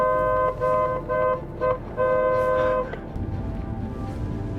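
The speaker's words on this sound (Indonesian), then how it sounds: "Alina, itu kok mobil papa kamu klakson-klakson terus?" A car horn honks repeatedly in short and longer blasts, loud and close, with traffic noise underneath and a brief voice toward the end.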